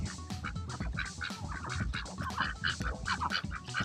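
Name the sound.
ducks quacking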